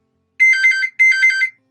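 A phone ringtone from a spam call plays two identical bright, warbling electronic bursts about half a second each, loud and close, separated by a short gap, with silence around them.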